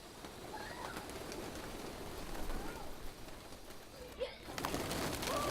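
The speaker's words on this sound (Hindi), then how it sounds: "एक सीटी का इशारा और सारे कबूतर एक साथ छत पर आ जाते हैं।" Trained pigeons on a Delhi rooftop coo softly amid a faint, steady background hiss, with a brief flutter near the end.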